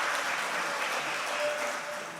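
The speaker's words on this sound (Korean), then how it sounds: "네, 박수로 받아주시죠." Assembly delegates at a church general assembly applaud steadily in a large hall, a dense continuous wash of clapping at even loudness with no voices on top.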